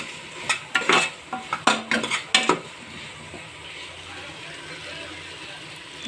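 Vegetables and soya chunks sauté in a pan, a quick run of spoon-on-pan scrapes and clatters up front before settling into a soft, steady sizzle, with someone talking nearby.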